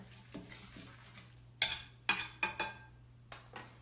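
Spoon stirring and blending a turkey meatloaf mixture in a bowl, heard as a few soft scrapes followed by several sharp clinks and knocks against the bowl, close and alone.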